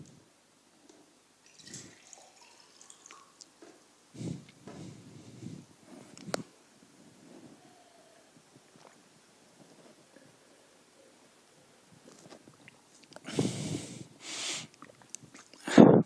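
A person takes a sip of water during a lecture, with scattered soft sounds of handling a cup, then louder slurping and swallowing bursts near the end, close and quiet otherwise, with no talking.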